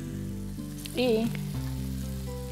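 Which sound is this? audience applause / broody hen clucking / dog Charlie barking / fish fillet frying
fish fillet frying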